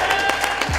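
A restaurant crowd in Las Vegas bursts into brief applause after a burger challenge, a short dense patter of clapping close by.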